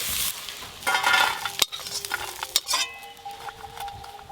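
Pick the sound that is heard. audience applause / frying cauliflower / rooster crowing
frying cauliflower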